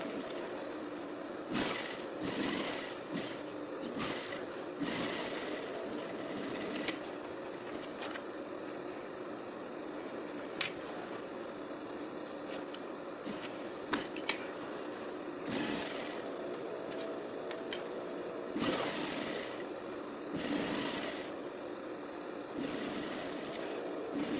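A sewing machine stitches a wide basted hem on tailored bermuda shorts in repeated short whirring runs, separated by quiet pauses and small handling clicks, close by.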